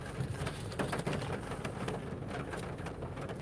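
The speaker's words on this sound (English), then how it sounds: "We got a lot of rain going on." Steady rain falls outdoors, a dense, even hiss of drops on surfaces with scattered brighter taps, continuous and moderately close throughout with no talking.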